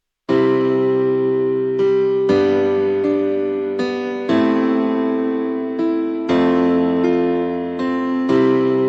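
A piano with parallel saturation plays sustained chords with a gritty, slightly distorted edge, each chord struck and held in a steady, slow progression.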